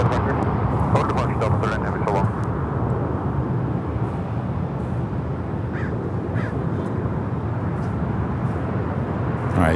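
A Delta Airlines Airbus A350-900 takes off from LAX for Shanghai, a steady, moderately loud jet rumble that continues throughout, with crows cawing early on and people talking nearby.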